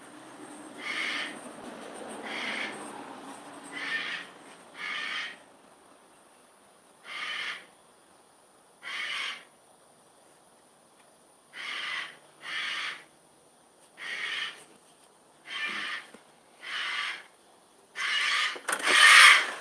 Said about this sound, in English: I had to get the bird to hush